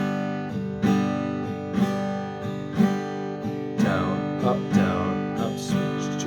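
Guitar chords strummed with the back of the hand and left to ring for a blues lesson, about seven evenly spaced strums, each sustaining into the next, played alone.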